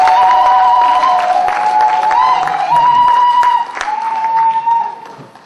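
Church congregation applauding and cheering in praise of the Lord, a sustained wash of clapping and voices with a held musical tone underneath, fading slightly toward the end.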